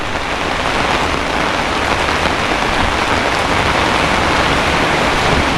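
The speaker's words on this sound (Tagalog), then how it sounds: "Ngayon, umulan." Heavy rain pouring down outdoors, a loud, dense and steady hiss of drops on surfaces with no break throughout.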